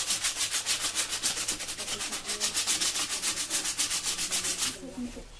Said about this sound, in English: So I'll give this a light sand as well.